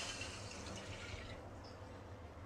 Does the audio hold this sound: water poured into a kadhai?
yes